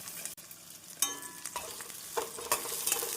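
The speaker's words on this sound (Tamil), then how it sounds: "வெங்காயம் நன்றாக வதங்கவும் நாம் ஊற வைத்த சுண்டைக்காயை சேர்த்து விடலாம்" Onions with garlic and green chilli sautéing in a pan for sundakkai kuzhambu, a soft sizzle broken by a few stirring scrapes and clinks, close and fairly quiet, no voices.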